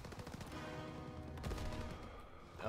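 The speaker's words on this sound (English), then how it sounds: "Oh, just regular arms fire?" Small arms gunfire in a Call of Duty WWII battle, a dense, continuous run of overlapping shots and rattling bursts at fairly constant level, with a louder crack near the end.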